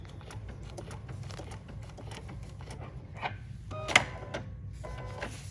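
A sewing machine stitches a flower applique onto a quilt block, a steady close mechanical whir running through the stretch with small clicks and a brief louder rattle near the end.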